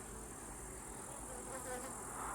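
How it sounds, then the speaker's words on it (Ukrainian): Honey bees buzz around a beehive in summer, a dense, steady, close drone with no pauses. "бджілка лазить з прополісом"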